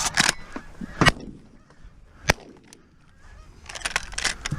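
Geese honk in loud, close bursts around decoys during a goose hunt on Prince Edward Island, clustered at the start and again near the end, with a couple of sharp bangs and quieter stretches between.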